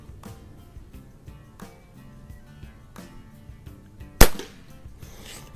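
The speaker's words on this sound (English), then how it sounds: "this is the first time I've shot any of these type of pellets out of this gun" A single sharp crack from a Walther air pistol firing a Dynamit Nobel Geco 7.3 grain wadcutter pellet, standing out near the end against quiet background music.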